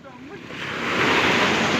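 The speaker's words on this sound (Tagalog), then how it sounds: "Ay, may alon, may alon." Ocean waves washing onto a beach, a surge of surf that builds and swells louder over a couple of seconds, with a voice faintly at the start.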